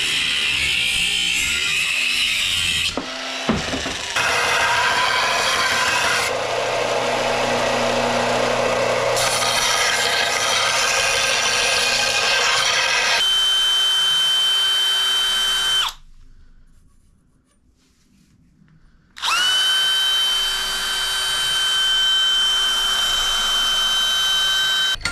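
A power tool cuts through thick-walled black iron pipe for a trailer jack drill adapter, producing a loud, sustained metallic whine and grinding with changing pitch, then a brief pause before the high steady cutting tone resumes.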